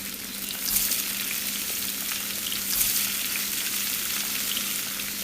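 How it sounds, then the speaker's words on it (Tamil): Pepper, cumin, curry leaves and coriander fry in a pan for pongal, giving a steady close sizzle with a few louder crackling bursts. "எல்லாம் மிளகு, ஜீரகம், கருவேப்பிலை, மல்லித்தழை எல்லாம் நல்லா பொரிஞ்சு வரணும்"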